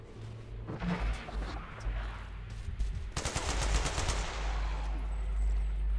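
Gunfire in a multiplayer survival game, with rapid shots that crackle out in a quick, close burst midway through over a steady low background rumble.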